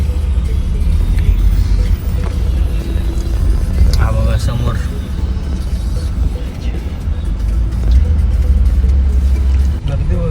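Idling and creeping vehicles rumble in a traffic jam on the Mumbai-Goa highway, a loud, continuous low engine drone with a person talking over it throughout.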